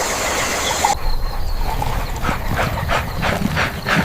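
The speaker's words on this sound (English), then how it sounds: "Among Ruaha's treasures is the African wild dog" African wild dogs in Ruaha call in the open with a series of short, repeated yelps and chirps, fairly close and clear over a low natural background.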